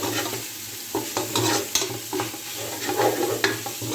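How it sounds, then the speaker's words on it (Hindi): Chopped bell pepper stir-fried in oil for a chicken vegetable macaroni dish, a steady close sizzle broken by repeated scraping and clattering stirs of the spatula against the pan, with no talking. "आपने 10 सेकंड जो है वो इसको स्टिर फ्राई करना है"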